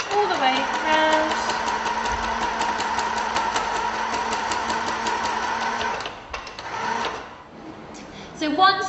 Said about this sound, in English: So again, we just sew all the way around